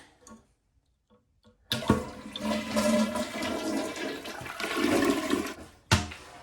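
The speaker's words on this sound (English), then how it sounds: "now I can flush it" A toilet flushes loudly and close by while a bidet is being installed, with a rushing surge of water that drains steadily before cutting off abruptly, followed by a brief final gush.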